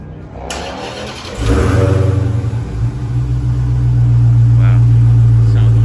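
A 2020 Dodge Charger SRT Hellcat Widebody Daytona 50th Anniversary starts up at a dealership, its engine catching with a burst and settling into a loud, steady, deep rumble, with people talking nearby.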